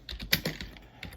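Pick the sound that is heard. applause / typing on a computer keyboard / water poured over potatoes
typing on a computer keyboard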